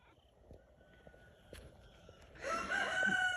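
Chickens in a chicken tractor, their faint scattered sounds and a few soft knocks giving way to a rooster's loud crow in the last second, with no talking.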